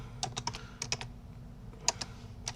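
Keystrokes on a computer keyboard typing a Linux command, quiet and close, in irregular short bursts of clicks separated by brief pauses.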